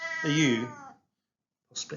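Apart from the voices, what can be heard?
Siamese cat meowing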